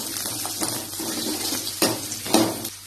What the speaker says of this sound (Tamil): எல்லாத்தையும் நல்லா வதக்கிக்கலாம்